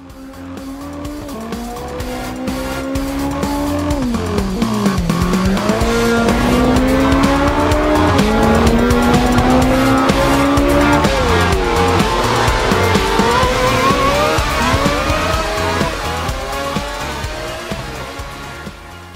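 Race cars in the Hot Lap Racing simcade game, engines wailing as they rise and drop through gear changes, with tire squeal layered in and a continuous loud roar from start to end.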